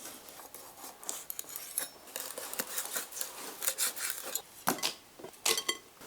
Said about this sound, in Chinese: 虾背开一下。